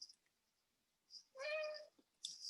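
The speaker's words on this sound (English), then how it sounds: "Was my cat." A cat meows once, a clear, fairly close call standing alone in a quiet room, with a couple of faint short sounds around it.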